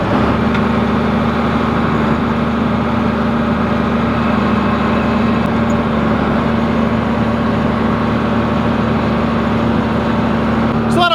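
The engine of a cab tractor raking hay on a hot farm day gives a loud, steady, low drone that runs unbroken throughout, with no voices over it.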